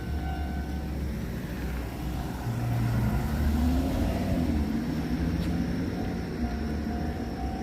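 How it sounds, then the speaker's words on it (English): A train rolls past near a station on a countryside walk, a steady low rumble with a broadband wash that swells in the middle and eases off, with no talk over it. "Train."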